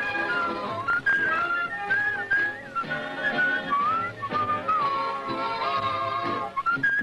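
A person whistles a wavering, sliding melody continuously and loud at close range, set against a cartoon soundtrack with other sounds underneath.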